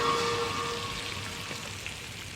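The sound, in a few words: fish coated in breadcrumbs shallow frying in a pan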